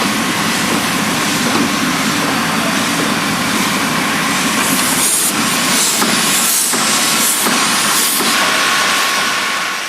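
QJ Class steam locomotives of the Jitong Railway standing at Daiban loco shed, a loud continuous hiss of escaping steam with several stronger bursts in the second half, no voices.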